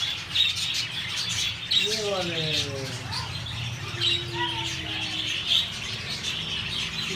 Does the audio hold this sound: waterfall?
no